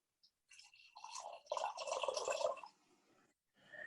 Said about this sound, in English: So if everybody's looking now, I'm going to pour.